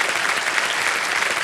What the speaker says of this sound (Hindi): चलिए इनका स्वागत किया जाए, तालियां बजती रहें इनके लिए